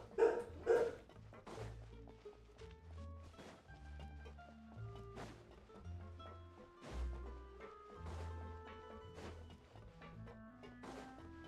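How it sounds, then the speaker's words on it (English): Dogs bark in the background beneath music from a game session, with a few loud sharp barks near the start and quieter barking later, partly masked by the music. "Sorry for the dogs, by the way."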